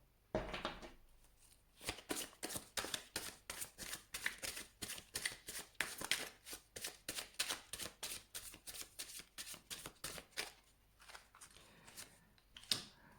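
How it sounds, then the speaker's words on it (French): Tarot cards are shuffled in a fast, crisp, close riffle of snapping flicks lasting several seconds, then a few softer card slides as cards are drawn one at a time. "Deux petites cartes. Alors j'en prends une à la fois."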